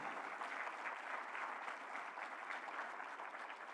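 A gala audience at the 2024 LBJ Museum Benefit applauds, a dense, even roar of many hands clapping at moderate distance, sustained without pause or voices for the whole stretch.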